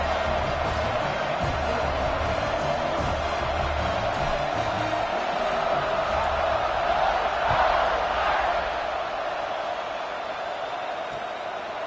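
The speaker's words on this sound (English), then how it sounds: "this crowd is buzzing after that last score" A college football stadium crowd roars in an NCAA 26 video game, a steady dense wall of cheering that swells slightly near the middle and fades a little at the end.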